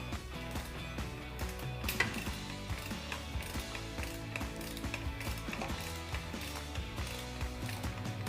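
Ratcheting mechanical clicks from a tool working loose a bolt during an engine teardown, a steady run of rapid ratchet-pawl ticks with a sharper snap near the two-second mark, close and fairly loud, no talking.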